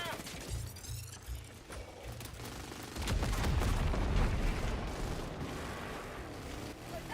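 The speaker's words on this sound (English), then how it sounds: "¡Bombas fuera!" Heavy bomb explosions in Helldivers 2, a rumbling barrage that swells midway and sustains a thick, booming roar with crackling debris, layered over ongoing battle noise and some radio chatter.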